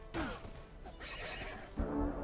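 A horse whinnies in the fantasy strategy game Age of Wonders 3, a single loud descending neigh near the start followed by game battle noise, with a brief deeper snort or sound effect near the end.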